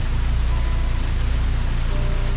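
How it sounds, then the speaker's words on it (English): Heavy rain drumming on an old roof at a campsite, a loud steady wash of noise with low rumble filling the whole stretch. "I don't know if y'all can hear that rain hitting that old roof, but it's coming down pretty good right now."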